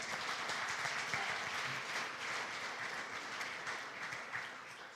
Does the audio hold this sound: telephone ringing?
no